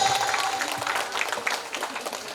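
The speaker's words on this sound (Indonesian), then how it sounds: "Berikan tepuk tangan yang meriah." Audience applause at a kindergarten school arts performance in Medan, a steady wash of clapping from a crowd of parents and guests, moderately loud, with some chatter mixed in.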